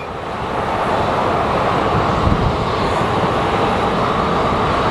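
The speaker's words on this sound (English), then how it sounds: "I'm doing my best to track this Embraer for you guys" An Embraer airliner at Sky Harbor Airport gives off a steady, loud broadband engine roar that holds through the whole stretch with no voices over it.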